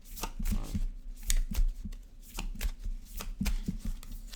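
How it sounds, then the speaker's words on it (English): A deck of tarot cards being shuffled by hand, a steady run of quick papery riffles and soft taps, close and clear with no talking. "I'm going to shuffle."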